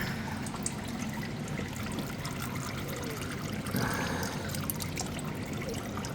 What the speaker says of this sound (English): you move your oil pan underneath and you finish it taking out by hand. So just let it drip.